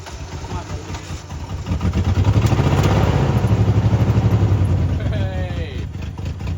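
A Toyota pickup engine idles close by, a steady pulsing rumble that swells slightly and holds a throbbing rhythm, with people talking over it.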